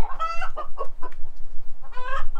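Several chickens cluck and squawk loudly and close by near a chicken coop, in short repeated bursts with brief pauses, and no one speaks.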